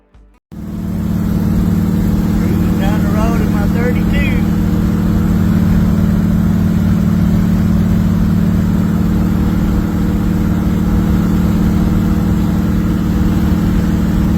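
A rear-mounted VW engine in an Alfa Romeo 8C replica kit car fires up almost instantly and settles into a loud, steady, close idle with a constant low hum, with a brief voice near the start.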